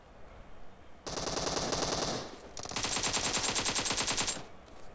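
A Vector submachine gun fires in PUBG Mobile, two long rapid bursts of fully automatic fire with a brief gap between them, dense and fairly loud, with no talking.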